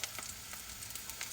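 Lion's mane mushrooms frying in an expensive Tefal nonstick pan, a soft close sizzle with light crackling pops, heard alone.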